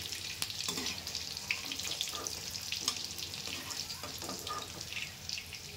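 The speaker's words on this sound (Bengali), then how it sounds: "এরকমভাবে পুরো সোয়াবিনটাকে আমি ভেজে তুলে নেব" Soybean chunks fry in hot oil for chilli soybean, a dense steady sizzle and crackle close up, with occasional clinks and stirring scrapes from a utensil and no voices.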